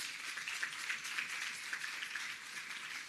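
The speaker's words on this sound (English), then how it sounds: "Let me have a round of applause for her again." An audience at a PEP scholarship awards ceremony applauds, a dense, even wash of many hands clapping at once that holds steady throughout, heard faint and somewhat distant, with no talk over it.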